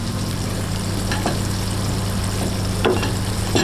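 Crispy shrimp frying in hot oil gives a continuous loud sizzle with a few brief stirring clicks and no talking.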